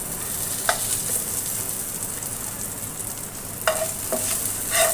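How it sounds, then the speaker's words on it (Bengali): Garlic fries in a pan, a continuous soft sizzle with a few sharp stirring clinks and scrapes, close up and without voices. "এই রসুনটাকে ভালো করে ভেজে একটু হালকা লালচে করে নেব।"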